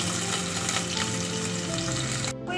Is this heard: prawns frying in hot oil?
yes